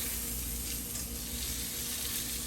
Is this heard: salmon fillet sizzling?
yes